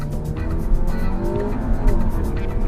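A front-wheel-drive 2015 Audi A3 with automatic transmission launches hard from a stop, its engine loud and close with a rising roar and some tire noise, no voices.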